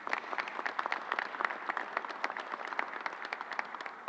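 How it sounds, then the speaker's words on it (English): An audience gives a round of applause for a group of reverends at a public event: a modest, fairly quiet patter of distinct claps from a smallish crowd, steady throughout. "Let's give them a round of applause."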